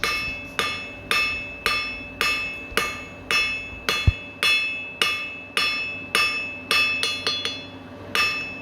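A blacksmith's hammer strikes hot steel, drawing a taper on the jaws of scroll tongs against an anvil, working from back to front: a steady run of about fifteen sharp, ringing metallic blows, close and loud, quickening near the end.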